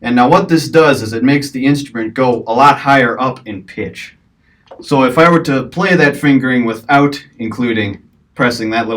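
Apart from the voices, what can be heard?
No distinct noise like a dog, phone or traffic.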